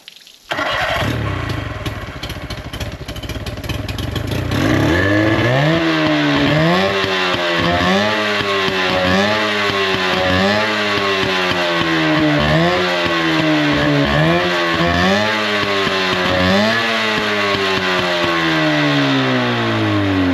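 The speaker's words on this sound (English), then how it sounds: "I feel like I need to like rev it up." An old boat outboard that sat for three years cranks and catches, then revs up and down repeatedly in loud, rising and falling surges close by with no talk, struggling to hold an idle.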